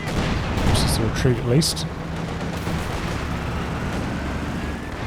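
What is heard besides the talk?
M1919 machine gun fire in Company of Heroes 2 video game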